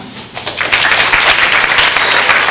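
Applause breaks out at a middle school awards banquet, starting lightly then swelling into steady, loud clapping from a full room that continues to the end.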